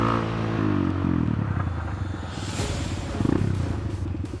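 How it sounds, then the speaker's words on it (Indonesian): A faulty motorcycle sputters and struggles to run, giving uneven engine pulses, rattling clatter and a brief rough surge before it falters, loud and close with no speech. "Motornya si Ujang nih. Berulah lagi"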